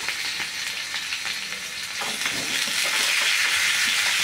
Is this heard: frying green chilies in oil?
yes